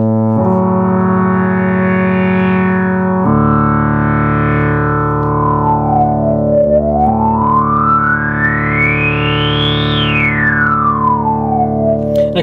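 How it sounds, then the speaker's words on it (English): A Moog synthesizer's ladder filter sweeps a sustained buzzy, harmonically rich tone. The filter opens and closes in slow glides that rise and fall for several seconds, loud and continuous, with no voices. "that's the ladder filter, which is used by the brass section. And you can actually hear it right here"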